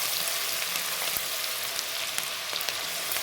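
A small onion frying in a pan for chicken pasta gives a steady, close sizzle with scattered crackles and pops and a few soft stirring clicks, with no voices.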